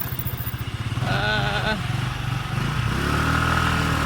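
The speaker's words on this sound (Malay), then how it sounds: "Ini kita ride kita naik motor di Sofia." Steady motorcycle engine drone while riding in Sofia, Bulgaria, with a voice talking over it partway through and wind-like rumble throughout.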